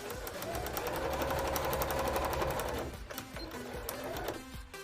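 A sewing machine runs fast and steady through free-motion embroidery on a wide stitch setting, a close, even mechanical whir that briefly falters and then resumes. No voices.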